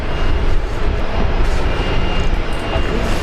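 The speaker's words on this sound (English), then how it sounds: "I've got that Neo over here from the Philippines making that noise." An Airbus A320neo airliner at Brisbane Airport gives off a loud, steady, broadband jet-engine roar throughout.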